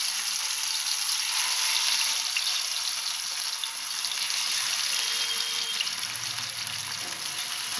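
Bata fish pieces fry in hot oil in a pan, giving a steady, continuous sizzle with fine crackling throughout, close and fairly loud, with no voices.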